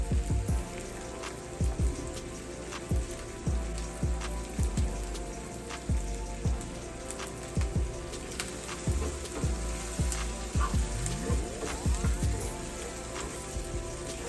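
Butter sauce sizzles steadily as it cooks down in a pan, with a constant frying hiss broken by repeated low thumps and pops at irregular intervals, close and fairly loud, with no talking.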